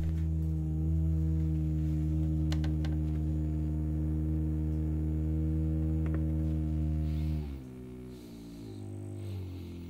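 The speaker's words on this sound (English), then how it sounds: "You see that motor moving across the bench?" A small motor with a mirror attached runs on a workbench, powered through an LM2596S buck converter, giving a steady low hum and buzz that drops in pitch and fades near the end, with a few faint clicks.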